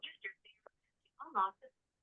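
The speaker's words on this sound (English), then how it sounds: "my phone just decided to talk for no reason" A smartphone's synthetic voice speaking unprompted, a short burst of clipped, tinny speech fragments heard alone and close up.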